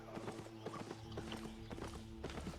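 In Albion Online a donkey mount trots along, its hooves clip-clopping in a steady, quick rhythm, close and fairly soft, with no one speaking.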